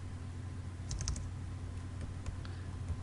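Keys tapped on a computer keyboard while entering text in CorelDRAW 2017, a small cluster of quick light clicks followed by scattered single taps over steady low room hum.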